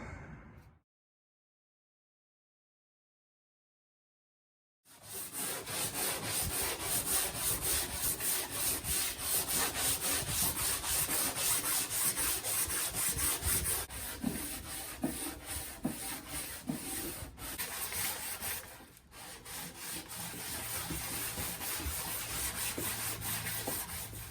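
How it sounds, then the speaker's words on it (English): Pallet timber desk top being sanded down before a clear varnish coat, a steady, close, continuous abrasive rubbing on wood that starts after a few seconds of silence and runs unbroken for the rest of the clip. "just gotta probably give the top a nice sand down, just so it comes up really nice"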